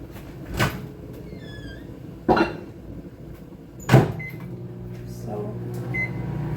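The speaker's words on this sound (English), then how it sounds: "I'm going to put it back in the microwave for another minute" Microwave oven handling while melting manteca for tamales in a home kitchen: three sharp clunks of the door and latch spaced a couple of seconds apart, short high electronic beeps of the keypad, then the low steady hum of the oven running.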